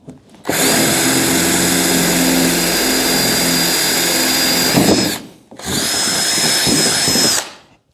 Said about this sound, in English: I turned the drill the wrong way